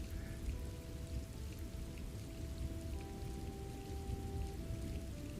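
Steady rain falls on a 1940s film-noir city street, a soft continuous patter with faint sustained tones drifting beneath it.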